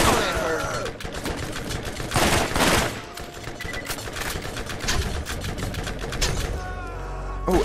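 Atlas machine gun firing in Borderlands, sustained rapid bursts with dense game action, explosions and music, loud throughout with occasional voice underneath.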